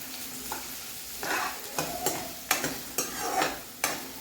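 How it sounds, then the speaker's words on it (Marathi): A large chopped onion sizzles in a pan for lasooni palak, stirred in repeated scraping strokes that bring bursts of crackle over a steady low fry; close and moderately loud, with no voices. "कांदा आपण थोडंसं शिजवून घ्यायचा"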